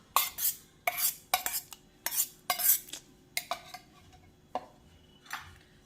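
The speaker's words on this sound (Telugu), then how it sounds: "వీటన్నింటినీ మంచిగా స్లోగా మిక్స్ చేసుకోవాలండి" A spoon clinks and scrapes against a bowl while paneer marinade ingredients are mixed, with a dozen or so sharp, close metallic taps in an uneven rhythm and no talk.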